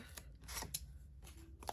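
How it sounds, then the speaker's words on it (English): Scissors cut along a score line in paper for a handmade purse, with a few quick, crisp snips close by and no talk. "And now I'm going to take my scissors and I'm going to cut"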